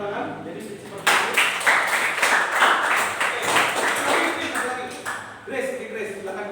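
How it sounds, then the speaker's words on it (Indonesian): Classroom applause, a burst of clapping from a group of students that starts abruptly, stays fairly dense for several seconds, then thins out, with some talking around it. "Oke, tepuk tangan."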